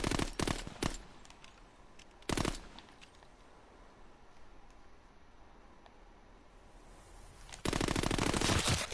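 Automatic gunfire from a weapon in the World War II shooter game Call of Duty WWII, loud bursts of rapid shots near the start, around two seconds in, and a sustained burst at the end, with quieter game ambience between.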